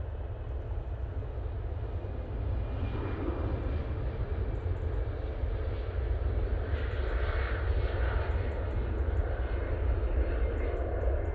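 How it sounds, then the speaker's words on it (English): An Aer Lingus jet departing Manchester Airport for Dublin gives a steady, loud engine roar with a deep low rumble that holds from start to end, with no talk. "Aer Lingus now going back to Dublin"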